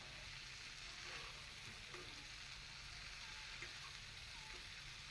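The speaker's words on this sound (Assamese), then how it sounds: "এতিয়া কম জুইতে মই 10 মিনিটমান সময় এইখিনি ভাজিম" Dhekia fern greens fry in a pan over a low flame, a soft, continuous sizzle that stays even and faint throughout, with no talking.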